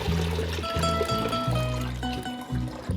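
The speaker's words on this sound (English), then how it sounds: "I'm gonna pour it in." Water poured steadily into a jar while making homemade kombucha, a continuous close liquid stream with shifting pitch as the vessel fills, no talking.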